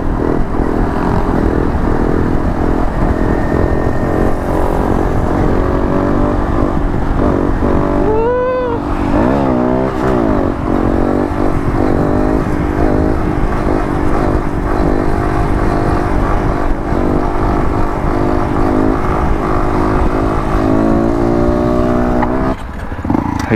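A Honda Grom motorcycle cruises in third gear, its engine droning loud and steady throughout, with wind buffeting the rider's microphone and a brief shift in engine pitch midway.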